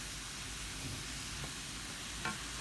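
Vegetables sizzle and crackle steadily in a little oil in a frying pan, a close, continuous hiss with a faint clink of stirring, no voices.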